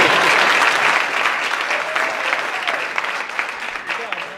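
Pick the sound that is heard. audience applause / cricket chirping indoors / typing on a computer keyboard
audience applause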